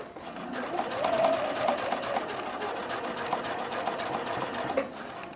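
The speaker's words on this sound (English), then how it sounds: "We're sewing just a regular 1/4 inch seam with straight stitches." A sewing machine runs steadily, stitching a straight quarter-inch seam on a bralette, with a fast even whirring rhythm close by and some quiet thumps.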